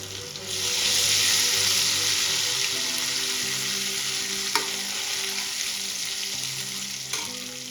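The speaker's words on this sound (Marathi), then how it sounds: "आता यामध्ये फेसून घेतलेली हिरवी मिरची ऍड करून घेऊया" Pounded green chilli and crushed ginger fry in a kadai with a steady, loud hiss and sizzle close up, stirred now and then with faint taps of a spoon, and no voices.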